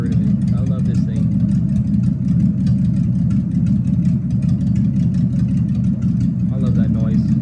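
A Chevrolet Trailblazer SS engine idles with a steady, deep rumble close by, holding an even level throughout while a voice briefly talks over it.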